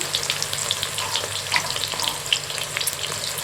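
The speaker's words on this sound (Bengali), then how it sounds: "তেল গরম হয়েছে বন্ধুরা, আমাদের আগে থাকতে কেটে রাখা পেঁয়াজগুলো আমি তেলের মধ্যে দিয়ে দিচ্ছি।" Chopped onions fry steadily in hot oil for a Kolkata-style mutton kosha, a dense, close crackling sizzle with scattered sharp pops and no voices.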